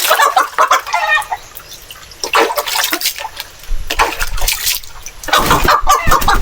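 A broody hen clucks and squawks in short bursts while being bathed, with splashing water between calls, close and fairly loud.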